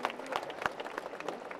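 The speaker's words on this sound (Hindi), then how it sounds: "साहब सिंह जी के लिए एक बार जोरदार तालियां" An audience claps steadily at a BJP rural rally, the applause dense and sustained across a short stretch with no clear voice over it.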